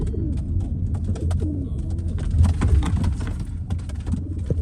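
Several pigeons in a basket coo in low, throaty rolls close by, with scattered clicks and rustling throughout; no talking.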